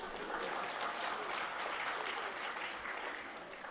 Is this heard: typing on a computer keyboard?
no